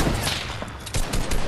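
Rapid bursts of automatic gunfire in the video game Fortnite, loud and close, firing in quick clustered volleys with brief gaps between them.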